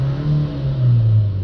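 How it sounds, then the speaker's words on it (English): A car engine with a particle filter pressure sensor fault is revved once, its smooth hum climbing and then holding at higher speed, loud and close with no talking. "Let's give that a rev again."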